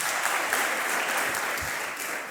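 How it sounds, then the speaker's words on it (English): A crowd at an award ceremony in Eldoret claps steadily, with a dense wash of applause that holds throughout. "A round of applause to him."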